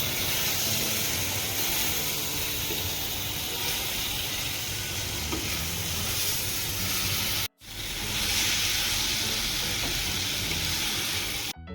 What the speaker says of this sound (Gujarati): હવે આને આપણે મિક્સ કરી નાખવાનું મસાલામાં